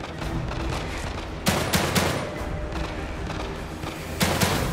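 Repeated sharp gunshots in the video game The Long Dark, loud bursts recurring irregularly over a dense, continuous background of game noise.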